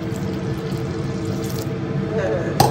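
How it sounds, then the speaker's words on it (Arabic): Water poured into blended juice in a kitchen, a continuous close splashing pour with a low background hum, ending in a brief clatter. "دابا كنزيد ليه الماء"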